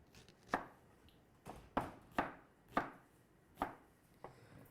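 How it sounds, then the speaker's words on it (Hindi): A knife chops a medium onion into cubes on a board, six distinct sharp chops at an uneven pace, close and clear with no talk. "मीडियम साइज की प्याज ली, इसके 2 पीस के। और इस तरह क्यूब्स काट लेने हैं अपने।"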